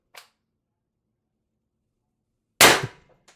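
Umarex TR68 air gun firing a single 10-gram shaped round at 1,050 PSI, one sharp, loud, close crack with a brief decaying tail, preceded by a faint click and followed by quiet.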